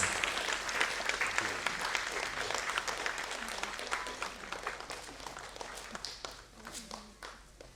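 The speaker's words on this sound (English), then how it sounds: "When we are releasing the souvenir, yes, I want a thunderous applause" Quiet, distant-sounding applause rolls through a hall at a souvenir release during a Kriya Yog and Indian classical music gathering, a continuous crackle of many hands that thins out gradually toward the end.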